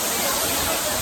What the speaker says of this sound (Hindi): देखा तो भाई झरना वहाँ ऊपर है